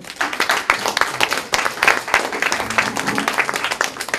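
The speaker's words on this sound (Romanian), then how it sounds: "Aici vă rog să aplaudați, se merită." An audience at a December 2015 literary circle gathering in Pitești claps. Dense, continuous applause keeps an even rhythm of many overlapping hand claps, with faint voices mixed in.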